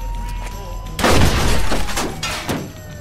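Gunfire from a gunfight in the video game Mafia 2: sharp bursts of shots crack out loudly in a few clustered volleys, with a steady low background hum between them.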